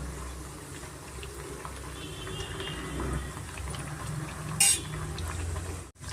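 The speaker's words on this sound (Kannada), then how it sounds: "ಮೀಡಿಯಮ್ ಫ್ಲೇಮಲ್ಲೇ ನೋಡಿ ಚೆನ್ನಾಗಿ 2 ಸೈಡು ಚೆನ್ನಾಗಿ ನಾವು ಫ್ರೈ ಮಾಡ್ಕೊಬೇಕಾಗತ್ತೆ" Vadas made from fresh black-eyed peas frying in hot oil on a medium flame: a continuous bubbling, crackling sizzle at moderate level, with a brief sharp clatter near the end, no talking.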